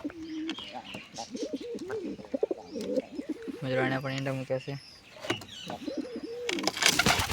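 Nesting pigeons with eggs in a domestic coop give a short run of throaty cooing near the middle, set between stretches of someone talking close by.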